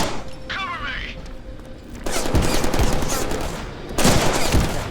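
Gunfire in the Deadpool video game, with bursts of shots and heavy thumping that build in two loud waves under a dense game soundtrack.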